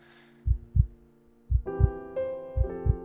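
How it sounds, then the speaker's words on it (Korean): A loud heartbeat sound effect for an audio drama thumps in paired double beats, deep and close, repeating steadily while a soft musical tone swells in underneath. "내 심장 소리가 이렇게도 컸던가?"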